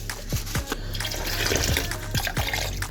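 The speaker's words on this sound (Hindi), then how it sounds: "इसमें आधा किलो चावलों के हिसाब से पानी डाल देंगे" Water is poured into a pot of half a kilo of pre-soaked rice for matar pulao, a loud, continuous splashing gush with small sloshing knocks throughout.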